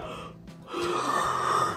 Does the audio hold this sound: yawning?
yes